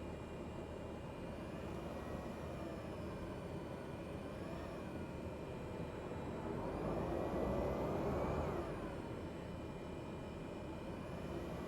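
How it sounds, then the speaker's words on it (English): A plane's engine in Microsoft Flight Simulator drones steadily while malfunctioning, its pitch wavering and swelling unevenly several times, a low continuous hum with no talk over it. "Can you hear the engine going a bit wonky?"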